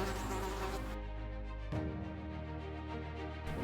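Bees buzz near a garden hedge, a dense continuous drone with a steady hum throughout, loud and close, layered over a constant background tone.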